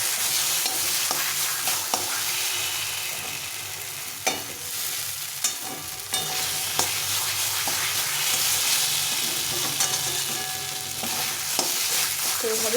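Taro pieces fry in plenty of oil in a pan for a mash dish, with a steady close sizzle and occasional stirring scrapes throughout.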